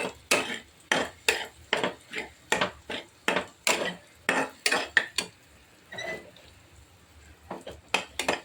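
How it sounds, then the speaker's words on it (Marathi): Paneer bhurji is stirred and tossed in a pan, with a utensil scraping and knocking against the metal in quick, rhythmic strokes, close and fairly loud, pausing briefly before resuming. "छान परतवून घ्यायची भाजी"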